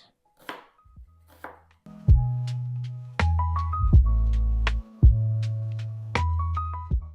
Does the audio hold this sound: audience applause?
no